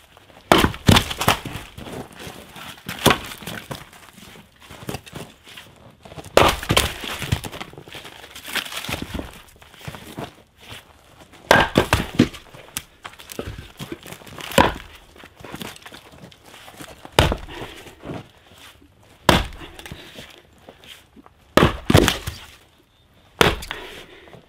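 Birch rounds being split with a splitting maul outdoors in winter: a series of sharp, loud impacts and cracking wood spaced a few seconds apart, with crunching steps and quieter handling between strikes.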